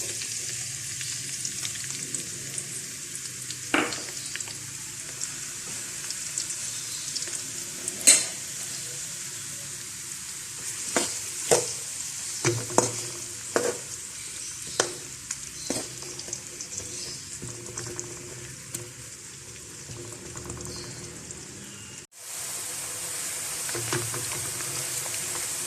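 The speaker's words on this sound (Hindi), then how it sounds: "देचकी में हमने घी डाल लिया और वो गर्म हो गया। अब हम इसके अंदर प्याज ऐड कर लेते हैं।" Onions frying in hot ghee inside a deep pot, a continuous bright sizzle with scattered sharp clinks and scrapes of a spoon against the metal, close and steady with no talk.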